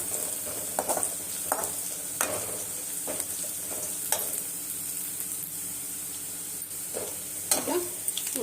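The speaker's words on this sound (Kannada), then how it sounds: "ಬೆಳ್ಳುಳ್ಳಿ ಈರುಳ್ಳಿ ಎಲ್ಲ ಚೆನ್ನಾಗಿ ಫ್ರೈ ಆಗಿದೆ" Garlic and onion sizzle steadily in a pan, at moderate volume and close up, while a utensil scrapes and stirs through them in several sharp strokes.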